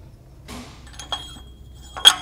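A wheel spacer is fitted onto a car's wheel hub against the brake rotor, with a few close metallic clinks and knocks of metal parts meeting over a quiet background.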